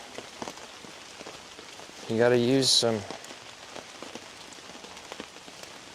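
Steady rain pattering on surfaces outdoors during an attempt to build a fire, a close, even patter throughout with someone briefly speaking partway through.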